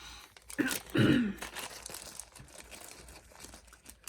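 Plastic bags holding silver, white and blue beads crinkle and rustle up close, a louder burst near the start fading into softer handling noise.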